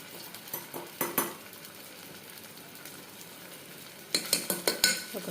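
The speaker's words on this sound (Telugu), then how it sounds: "1 స్పూను అల్లం వెల్లుల్లి పేస్ట్ వేస్తున్నాను" Ginger garlic paste frying in a pan for jackfruit seed curry, a steady low sizzle broken by bursts of a spoon scraping and clinking against the pan near the start and end.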